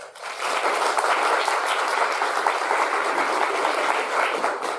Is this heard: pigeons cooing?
no